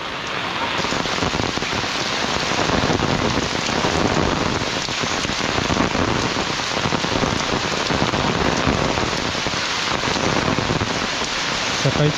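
Heavy monsoon rain pours steadily onto surfaces in rural Malvan, a dense unbroken hiss of drops that stays loud and even throughout, with no voices.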